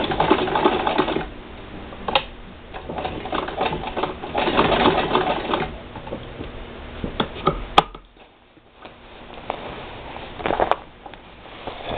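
A sewing machine stitches a large pocket onto a backpack, running in bursts of fast mechanical chatter with short pauses and a brief quiet stretch, close and fairly loud.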